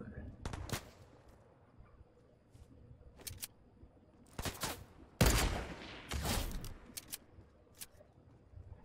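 Sniper shots in the Fortnite video game, several sharp loud cracks spaced irregularly over a quiet background, with a cluster of heavier blasts in the latter half.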